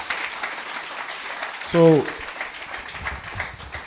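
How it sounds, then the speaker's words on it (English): Applause from a workshop audience at a strategic thinking expo, a steady wash of clapping throughout with a brief spoken word from a host partway through. "a big round of applause"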